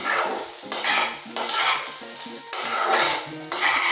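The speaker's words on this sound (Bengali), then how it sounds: "একটু ভালো করে নেড়ে নিলাম" A metal spoon stirs a ridge gourd, potato and poppy seed curry sprinkled with sugar in a pan, scraping and clinking loudly in repeated strokes with brief pauses, no talk.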